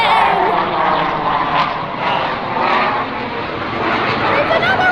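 A fixed-wing aircraft roars past overhead, a loud continuous engine drone that swells and fades slightly over a few seconds.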